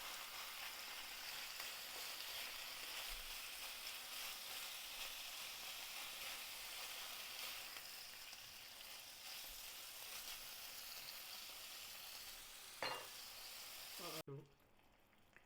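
About a pound of small chicken pieces fry in a pan for a stir-fried chicken dish, giving a steady, even sizzling hiss that runs on for a long stretch before a couple of utensil knocks and an abrupt stop.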